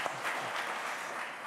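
Brief burst of audience applause at a policing and prison reform conference, greeting a deputy chief as he is introduced; steady, fairly faint clapping throughout the short moment with no talking.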